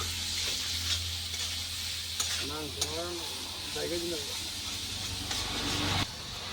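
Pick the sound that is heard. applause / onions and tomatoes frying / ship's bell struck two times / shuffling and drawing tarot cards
onions and tomatoes frying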